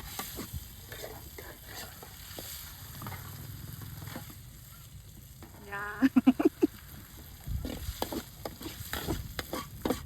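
Surf clams stir-fried in a pan at an outdoor cooking spot, with a steady low sizzle, clattering scrapes of a utensil against the pan, and a burst of louder stirring and clanks near the end.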